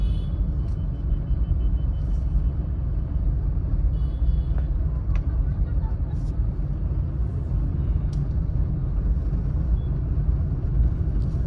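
A car accelerating on a driving lesson through a busy main market gives a steady, close, low engine rumble from inside the cabin, unbroken for the whole stretch.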